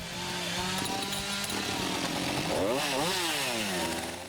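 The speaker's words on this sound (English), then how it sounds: "And the sound's just all chainsaws. That's all we hear." Loud chainsaws roar continuously, engines revving up and down as they carve into a wood stump, close and alone.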